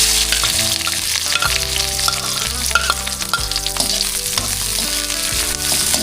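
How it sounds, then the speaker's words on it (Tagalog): Garlic, onion, ginger and Taiwan chili sautéing in oil for ginataan, a loud, steady, close sizzle and crackle with occasional stirring clinks throughout, no voices. "Gisa na po natin yung ating bawang sibuyas tsaka luya."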